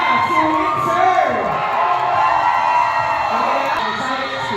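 A large crowd at an event in Artan Garden gives continuous loud cheering, whooping and shouting, dense and sustained throughout with many overlapping voices.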